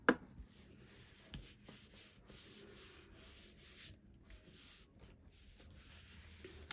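Folded cardstock on a pop-up explosion card is pressed and rubbed flat by hand, giving quiet, soft scraping and brushing with a few light taps, close and low in level with no talking.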